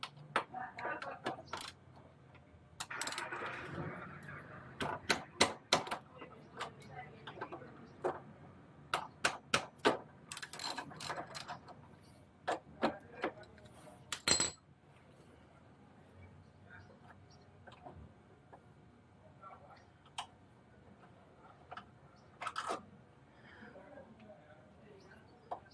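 A ratchet with a 12 mm socket loosens rear brake caliper bolts on a 2012 Kawasaki Voyager 1700 motorcycle. Quick bursts of sharp clicks come close by, then sparser clicks and quieter stretches follow.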